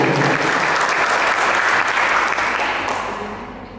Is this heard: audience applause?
yes